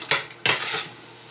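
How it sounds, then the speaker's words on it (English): Cabbage lasagna ingredients stirred in a dish, a utensil scraping and clinking against the dish in two loud bursts, the second longer and trailing off, with no talking. "So we're going to stir all that in"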